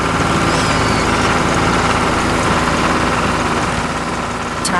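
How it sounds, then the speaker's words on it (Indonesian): A red tractor's engine in a cartoon farm scene, working dry soil past a white fence and red barn; a loud, steady, rumbling idle-like drone runs continuously without a break, with no voices. "Traktor merah beraksi di tengah kebun yang indah"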